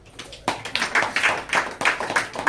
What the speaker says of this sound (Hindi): और ये मेरे भाई के लिए ताली बजाएं।